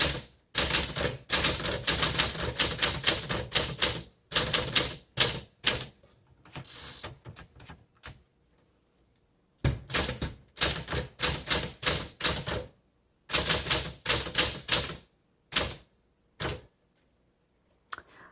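A 1949 Smith Corona Sterling manual typewriter with a red ribbon is typed on in quick bursts of sharp, loud keystrikes. The clacking runs in several fast runs broken by short pauses and carriage returns.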